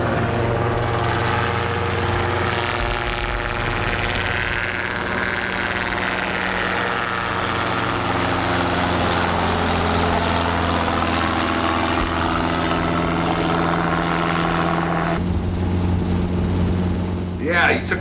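Helicopter in flight during a passenger ride, a loud, steady rotor and engine drone filling the cabin throughout, with a shift in tone near the end as voices speak over it.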